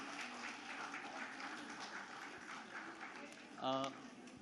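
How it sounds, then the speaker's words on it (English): Faint, steady applause from an audience of teachers, coordinators and principals at a K-12 leadership conference and school awards event in India, a dense wash of clapping lasting the whole stretch, with a short tonal blip near the end. "Please give a round of applause for yourself."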